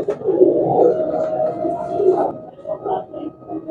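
Pigeons coo at the busy Shahdara pigeon market, soft low throaty calls rising and falling close by, with faint background murmur.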